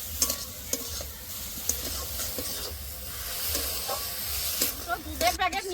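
Carrot kheer simmering after sugar goes in, with a ladle scraping and stirring the pot in a repeated rhythm over a soft steady hiss, and a few louder clatters near the end.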